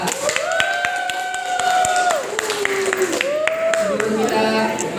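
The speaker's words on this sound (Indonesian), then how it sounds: "Tepuk tangan dulu untuk Kak Alfia" In a classroom, a group claps for Kak Alfia: rapid, crisp claps run beneath drawn-out vocal tones and cheering voices.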